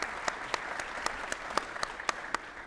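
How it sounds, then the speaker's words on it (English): An audience at a sports summit session applauds steadily for a speaker, a broad wash of clapping with sharper individual claps standing out at a fairly regular pace. "Let's give Ryan a round of applause."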